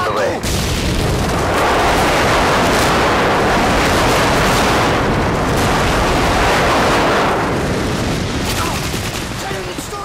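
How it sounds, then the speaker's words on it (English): Airstrike explosions in Call of Duty: Modern Warfare 2 Team Deathmatch on the Bailout map: a loud, unbroken barrage of heavy booms and crackling gunfire rumbles for the whole stretch, swelling and thinning slightly. "Friendly airstrike on the way."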